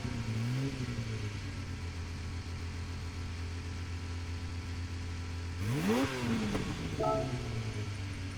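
A 1988 Porsche 962 C race car in Gran Turismo 7 idles with a steady low drone, then a starter whirr and sharp rev blip flare up around the sixth second before settling back into a rumbling idle.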